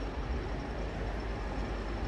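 A train engine rumbles at a platform in Stoke-on-Trent station, a steady, loud, low drone with broadband hiss that holds evenly throughout, no voices over it.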